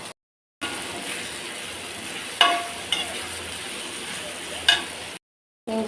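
Onions and tomatoes frying with salt and spice powder on a flat dosa griddle for goat lung fry, a steady broadband sizzle with a few sharp spatula scrapes and clicks against the pan, close up, framed by short silent gaps.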